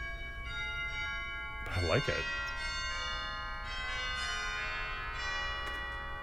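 Bright chime tones from the chimes stop of a 1992 Reuter pipe organ at Centenary UMC in Lexington, Kentucky, ring in long sustained overlapping notes, with a brief voice speaking partway through.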